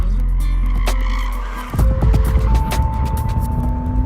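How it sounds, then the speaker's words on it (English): A 2014 Porsche Cayman S engine drones loudly as it brakes hard from 60 mph, then drops into a harsh, sustained tire squeal and skid noise, close and with no talk. "for our 60 to 0 braking test, took the Cayman 106 feet to stop from 60."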